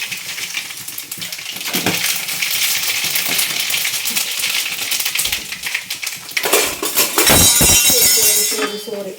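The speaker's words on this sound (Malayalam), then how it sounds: "കടുക് പൊട്ടി ഭയങ്കര സൗണ്ടായിപ്പോയി അല്ലേ" Mustard seeds pop and crackle in hot oil, a loud, close, rapid scatter of sharp snaps that grows denser and more violent toward the end.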